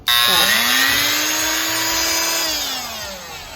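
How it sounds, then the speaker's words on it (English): A high-pitched power tool whines up and grinds steadily, scraping glue off the floor of a gutted MCI bus, for a few seconds, close and loud, then tapers off. "It's some sort of drill thingy. Just like you scrape it off."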